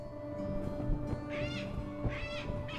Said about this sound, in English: Actually, you can notice the difference between the sounds the bird makes.